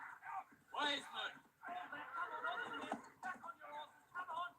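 A horse whinnies amid a scene of armored riders being ordered back onto their horses, the neigh tangled with overlapping dialogue throughout.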